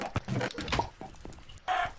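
Chickens in the Minecraft video game cluck in short bursts, several quick clucks spread through the moment, with the last one louder and nearer.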